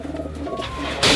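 Racing pigeons cooing in a loft, a few soft, close throaty coos in quick succession, heard alone without talk.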